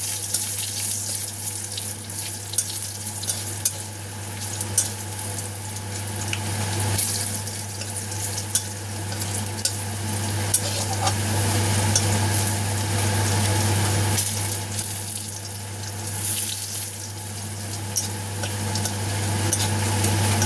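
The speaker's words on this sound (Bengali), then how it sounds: "আর 2টো শুকনো লঙ্কা দিয়ে এটাকে তেলের উপরে এভাবে নেড়ে চেড়ে রসুনগুলো একটু ভাজা ভাজা হয়ে যাবে" Crushed garlic and two dried red chillies fry in oil in a pan, giving a steady, loud, continuous sizzling hiss over a low hum, with no talking.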